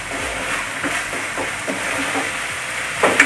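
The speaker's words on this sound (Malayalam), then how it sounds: "നന്നായി ഒന്ന് ഇളക്കി കൊടുക്കാം." Okra curry cooks in a pan, giving a soft, even sizzle and hiss under a few light scrapes from stirring. Near the end come a couple of louder clatters.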